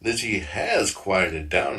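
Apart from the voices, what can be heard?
No distinct noise like a dog, phone or traffic.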